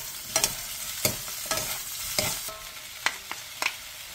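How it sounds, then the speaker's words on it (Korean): Bellflower root stir-fried with minced garlic and salt in oil in a pan over medium heat: a soft steady sizzle broken by several sharp scraping stirs and clacks, close and fairly quiet, with no voices. "팬에 기름을 두른 뒤 도라지와 다진 마늘 1스푼, 소금 1티스푼을 넣고 2분 정도 중불에서 볶아주세요"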